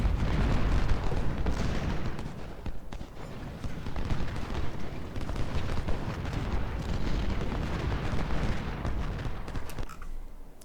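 Continuous rumbling artillery cannon fire and explosions in Ultimate General: Civil War roll on throughout, dense and loud, with a voice speaking faintly underneath.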